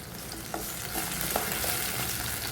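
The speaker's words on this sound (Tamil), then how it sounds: "இப்போ இதை சேர்த்து இந்த எண்ணெயில் நம்ம நல்லா வதக்கி விட்டுக்கலாம்" Small onions and chili sautéing in oil in a pan for yellow pumpkin sambar, a steady close sizzle with a few soft stirring scrapes and no talking.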